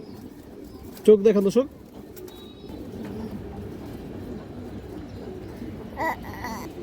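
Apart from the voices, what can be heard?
pigeons cooing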